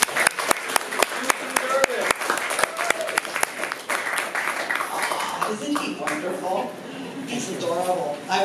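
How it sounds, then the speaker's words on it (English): Audience applause at a skeptics' conference, with sharp distinct claps at first, blending into steady clapping and then crowd chatter and voices as it tails off. "let's bring on with a round of applause."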